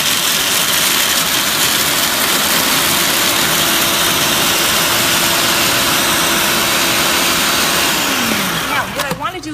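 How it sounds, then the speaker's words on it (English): A food processor fitted with an S blade grinds unsalted peanuts, giving a loud, steady motor whir with a rough grinding texture throughout, which winds down and sputters near the end. "I am putting the unsalted peanuts in the food processor fitted with the S blade"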